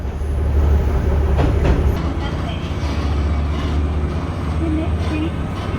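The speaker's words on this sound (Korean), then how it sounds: "하마나코를 한 바퀴 도는 철도인데 노면 상태가 고르지 못하고 속도도 느리지만 그만의 매력이 있었다" A Tenryu Hamanako Railway train runs slowly over uneven track, a loud steady interior rumble with faint rattles and clicks throughout.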